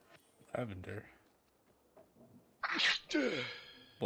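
A sharp sneeze bursts out near the end, loud and close, after scattered voices and quiet speech over a game's faint background.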